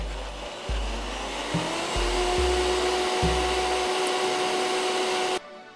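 Vitamix blender whirring through Italian dressing, starting low and ramping up to a loud steady whine that runs several seconds before cutting off.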